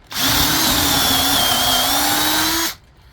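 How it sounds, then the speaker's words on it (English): A sharp cobalt drill bit boring into wood, a loud steady power-drill whine lasting under three seconds before stopping abruptly, heard up close with no talking. "it's cutting through that wood really easy"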